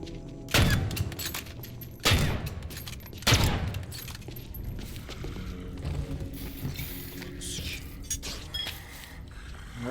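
Gunfire in the zombie video game Dead Island 2: three loud, heavy shots spaced over several seconds, followed by quieter game ambience and faint rumbling.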